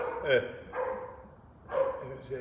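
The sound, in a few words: dog barking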